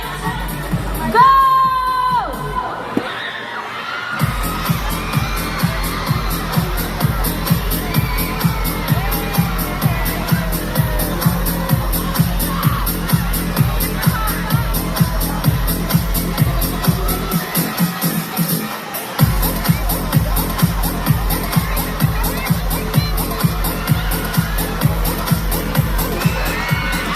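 A large fan festival crowd screams and cheers continuously during a fan game, loud and dense throughout with a brief lull partway, and a rhythmic beat runs underneath.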